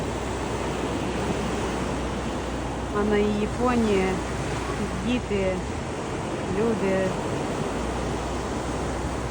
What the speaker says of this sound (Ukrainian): Море, шумить.